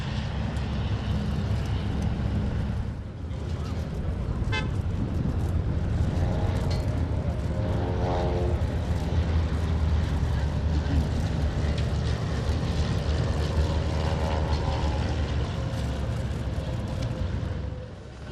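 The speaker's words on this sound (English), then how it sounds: "seen here with the Tecnam P2006, followed by a Piper Seneca and the formation of 3 Cessna 172s" Propeller airplanes at an airshow, a Tecnam P2006, a Piper Seneca and a formation of three Cessna 172s, drone loudly and steadily past with a continuous engine roar and shifting tones as they fly by.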